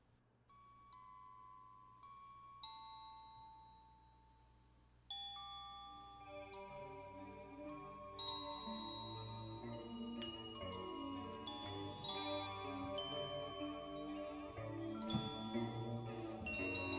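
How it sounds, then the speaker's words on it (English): Bright struck bell tones from the close of a song ring out one after another with long decays, then a full band swells in underneath and the bells keep chiming over the dense music. "and then the bells at the end"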